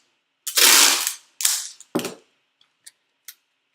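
Packing tape rips off the roll and is pulled around bagged and boarded comic books, giving a few sharp, crackling tearing bursts followed by small clicks and taps, all close and isolated against silence.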